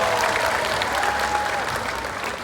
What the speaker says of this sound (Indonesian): sekali lagi tepuk tangan dong untuk Mas Ahim.